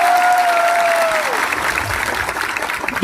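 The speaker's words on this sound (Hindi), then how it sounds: "ताली मारो उसके लिए भी।" An audience at a political gathering in Tripura breaks into loud, dense applause, many hands clapping at once and close by, sustained across the whole stretch, with a brief tone and faint voices mixed in at the start.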